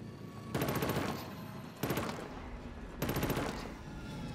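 Three loud, close bursts of rapid sniper-style gunfire from Killzone: Shadow Fall, each a rattling volley of a second or so, spaced by short pauses over a steady background rumble.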